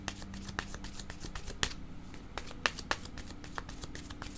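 Tarot cards are shuffled and drawn by hand, giving close, soft riffling with sharp snapping flicks as cards slide and are laid down, with no voices.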